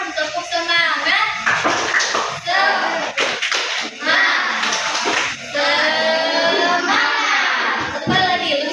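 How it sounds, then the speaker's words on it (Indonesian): A classroom of fifth-grade students claps a fast rhythmic cheer while chanting loudly together, a continuous dense clatter of hands and voices. "Tepuk semangat."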